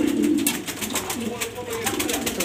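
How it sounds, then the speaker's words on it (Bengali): Pigeons coo close by while they bathe, a soft repeated low cooing with faint splashing. A person talks over the birds. "আমার কবুতরগুলো আজকে গোসল করতেছে"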